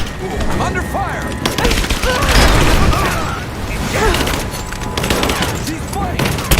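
Rapid gunfire and booming shots from Shadow of the Tomb Raider crackle in loud, dense bursts during a firefight, with shouting voices mixed under the shooting throughout.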